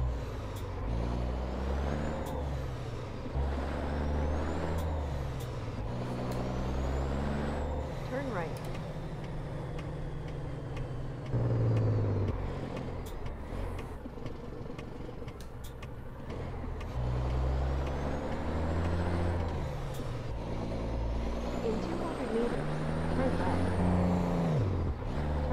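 Simulated heavy truck in American Truck Simulator hauling an aircraft engine: a deep, droning diesel that rises and falls through gear changes, with sharp air-brake hisses, under near-constant talk from a man.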